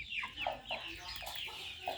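Chicks and young fighting-breed chickens clucking and cheeping in a Thai farm setting, a series of short close peeping calls repeated at an uneven pace over a steady background hum, no talk.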